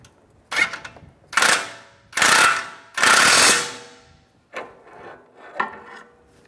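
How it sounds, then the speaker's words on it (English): A pry bar levers up the front inner tie rod of a 2004-2010 BMW X3 while the nut is snugged, with several loud, close scraping and ratcheting bursts, then quieter clicks. "Underneath the tie rod, I'm just going to take a pry bar, pry it up while I just snug up the nut."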